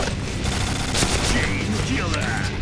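Gunfire in the first-person shooter Point Blank rattles in dense bursts over a noisy game soundscape, with loud shots close in and several quick pops in succession.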